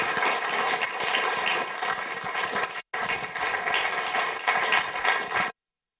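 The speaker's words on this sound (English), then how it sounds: "can you just give a huge round of applause to Russell for doing this?" Audience applause after a speech, a loud continuous wash of clapping that cuts out briefly midway, then resumes before stopping abruptly.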